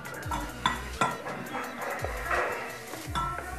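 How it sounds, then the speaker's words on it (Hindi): Water being stirred into soya chunk pakora batter, the spoon scraping and clinking against the bowl in several close, rhythmic strokes with soft wet mixing sounds between them. "थोड़ा सा वाटर डालने के बाद आप इसको अच्छी तरीके से मिक्स कीजिए।"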